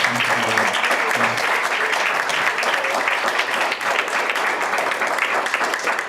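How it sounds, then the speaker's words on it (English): A round of audience applause at a library fundraiser evening, steady dense clapping from a seated crowd at moderate level, with a few voices briefly audible early on beneath it. "So I just want to finish one more round of applause for 9 really interesting and good people."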